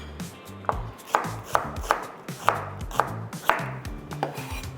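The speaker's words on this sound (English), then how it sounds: "So onions, simple. You can chop them, you can dice them, you can slice them" A knife cuts onions on a board for tomato soup, giving about ten crisp, evenly spaced chops close by, each a sharp tap with a soft slicing rustle in between, with no speech.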